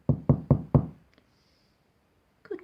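Four sharp, evenly spaced knocks on a door ring out close and clear, followed by silence and a brief soft rustle near the end.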